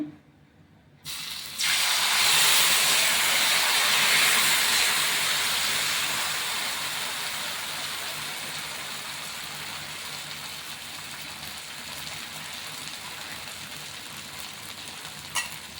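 Wheat dosa batter hits a hot pan on full flame and bursts into a loud, steady sizzle after a brief quiet start, the hiss slowly easing but continuing throughout.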